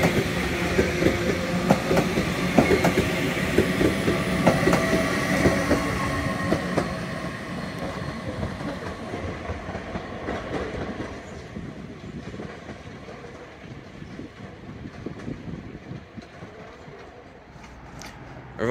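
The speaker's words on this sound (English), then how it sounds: "Arriving in now is another 323, but in the old West Midlands Railway livery" A Class 323 electric multiple unit pulls into Manchester Piccadilly station, its rumbling wheels and motor noise loud at first, then easing to a quieter hum as the train slows to a stop.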